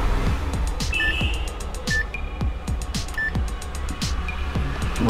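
A multimeter set to continuity mode gives several short, clear beeps as its probes touch, spaced about a second apart over steady background noise from repairing a Samsung Galaxy M12 display.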